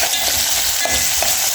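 Onions frying in a pan for Kenyan pilau, a steady close broadband sizzle with faint stirring scrapes and no talk.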